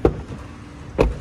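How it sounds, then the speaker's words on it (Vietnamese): Two solid thumps about a second apart as the door of a 2015 Chevrolet Orlando LTZ seven-seat car is shut, each a short, close, dull knock with no talk. "Đây, các bác quan sát tiếng đóng cửa này."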